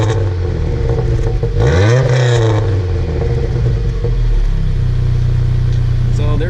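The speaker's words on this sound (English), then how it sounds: "this thing's got a super loud exhaust" A cheap Pontiac Grand Am with a very loud exhaust roars while driving, rising in a strong rev sweep that falls back to a heavy, steady rumble close by.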